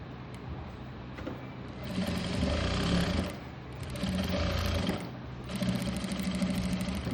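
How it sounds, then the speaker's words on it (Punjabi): A sewing machine runs in three bursts while stitching an umbrella frock, a close, steady mechanical whir and needle chatter that stops briefly between runs. "ਇਹ ਤੇ ਆਪਾਂ ਡਬਲ ਸਲਾਈ ਕਰ ਦਾਂਗੇ ਇਹਨੂੰ"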